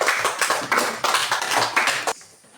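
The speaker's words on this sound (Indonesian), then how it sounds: "Tepuk tangan dulu kelompok ini" Classroom students applauding a group of classmates, a burst of dense, fairly loud clapping that carries on for about two seconds and then cuts off abruptly.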